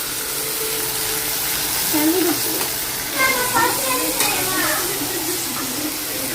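Chapati and kurma cooking in a home kitchen, with a steady sizzle and frying hiss throughout, plus occasional stirring and clatter and some background voices and music-like tones.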